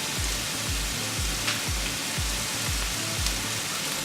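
Pork pepper roast, Kerala style, frying in a pan over a high flame: a steady, even sizzle with rhythmic low thumps roughly every half second, moderately loud and close, with no voices.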